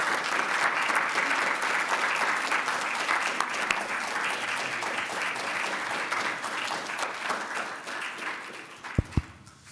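Sustained applause fills a conference hall as the audience claps for the event organisers, a dense, even roar of many hands that carries on for several seconds and ends in a couple of sharp knocks.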